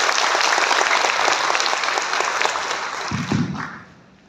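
Hall audience applauds loudly to welcome a government minister at a gathering of village assistance workers, steady clapping that tapers off and fades out near the end.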